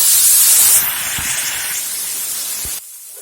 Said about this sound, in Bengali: তেল আমার গরম হয়ে গেছে আমি যে মশলাটা বেটে রেখেছি দিয়ে দিব